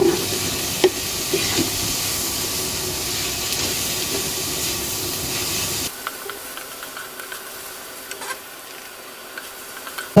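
Chopped tomato and egg fry in oil while being stirred, a close hissing sizzle with scattered scrapes that suddenly drops to a quieter, thinner sizzle partway through, with no voices.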